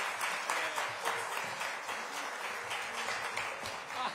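Steady applause from an audience at a book launch event greeting an author as he comes to the stage, moderately quiet and continuous with a slightly uneven, pattering texture.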